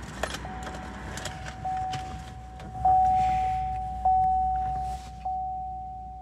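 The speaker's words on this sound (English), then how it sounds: "get the vehicle fully started up by inserting the key into the" Keys jangle in the ignition of a 2018 GMC Sierra 1500 All Terrain SLT 4X4 pickup while a steady electronic warning chime rings in a repeating pattern inside the quiet cab.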